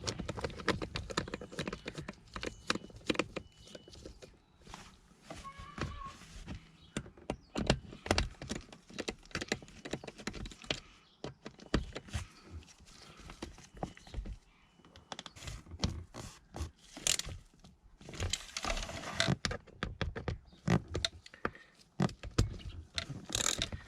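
Two Torx screws being driven back in beneath the thigh support of a BMW E60 5 Series seat: close, irregular bursts of clicking and ratcheting tool noise with short pauses, and no talking.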